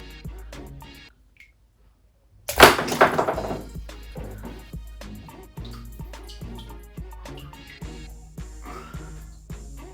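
Glass bottle dropped into shallow water in a bathtub, a sudden loud splash and thunk followed by a series of rhythmic drips and sloshing as the water settles, close and isolated.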